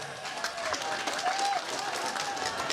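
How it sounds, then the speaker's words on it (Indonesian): An audience at an Indonesian community gathering in Lampung gives applause, a steady wash of many hands clapping with some crowd noise and faint voices, continuous throughout. "Tepuk tangan untuk masyarakat Balangandang"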